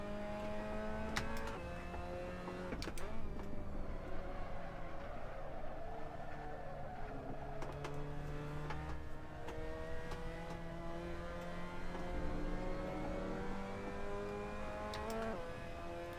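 A race car in Assetto Corsa, driven in online ranked racing, sends out a steady engine whine that shifts pitch through the corners, with gear changes and short rev bursts, moderately quiet and with no talk over it.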